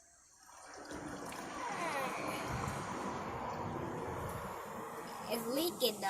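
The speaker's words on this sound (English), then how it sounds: "So we're gonna pour the whole 5 quart in there." Five quarts of motor oil glug and trickle steadily into a 2012 Ford Mustang engine, a soft continuous liquid pour starting after a quiet moment, with an adult and someone talking near the end.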